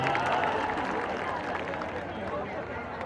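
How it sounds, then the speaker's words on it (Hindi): A large crowd at Pawan Singh's election nomination rally in Karakat claps and cheers in a thick, continuous roar mixed with loud crowd chatter and voices. "इस भाई के लिए एक जोरदार ताली हो जाए भैया"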